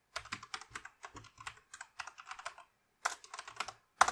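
A command is typed on a computer keyboard at a Linux command line, a rapid series of crisp, close key clicks in bursts, with a short pause before a final few strokes and a last firm tap.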